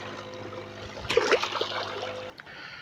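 A channel catfish slipped back into river water, a brief close splash and trickle of water that swells and fades in a couple of seconds.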